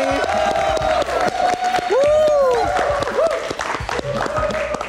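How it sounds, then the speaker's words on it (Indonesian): Studio audience clapping and cheering at a live Indonesian Metro TV talk show in Studio 1, loud and sustained, with a steady high tonal hum running underneath. "Mana tepuk tangan sekali lagi?"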